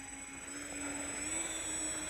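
RC Boeing 737 Max 9 model taxiing along the edge of a road, its electric ducted fans giving a steady high whine that rises slightly in pitch, heard alone at moderate distance.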